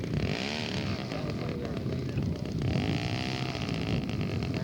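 A scratch-built scale model clipped-wing Piper Cub taxis on a runway in a stiff breeze, its small engine buzzing steadily with rising and falling pitch sweeps, close and loud against constant wind rumble on the microphone.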